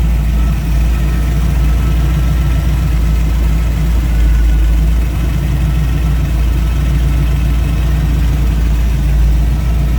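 A 1934 Ford Highboy Roadster idles smoothly with a deep, even, continuous engine rumble, close and loud, with no voices.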